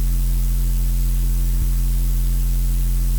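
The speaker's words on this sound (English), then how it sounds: "Then the hard bass line with noise." A hard dubstep bass line layered with noise forms a dense, sustained low drone with a buzzing hiss on top. It plays loud and continuous, with a brief glitch midway, and no voice is heard.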